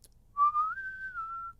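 A person whistles in imitation of a whistle heard in the woods, one clear rising tone that levels off and holds for over a second, close and alone against quiet background.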